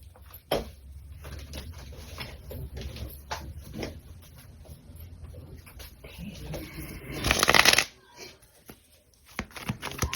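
Tarot cards are shuffled by hand in a string of soft riffling and sliding bursts, ending in a louder, denser riffle near the end, with occasional quiet speech.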